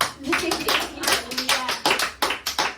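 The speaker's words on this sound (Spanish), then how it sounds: "Un aplauso para..." Scattered live applause from a studio audience at a Spanish-language Christian testimony show, uneven bursts of hand claps close by with a little talk mixed in.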